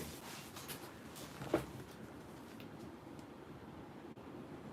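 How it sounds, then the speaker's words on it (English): Heavy rain pouring outside, heard indoors as a faint, steady, broad hiss, with a soft bump partway through and no talk. "it just started pouring rain."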